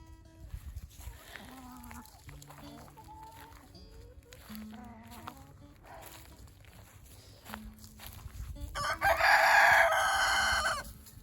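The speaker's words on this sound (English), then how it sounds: "This is my handsome rooster that keeps crowing super loudly at you." Chickens cluck and shuffle nearby in a garden coop, then a rooster lets out one loud, close crow near the end.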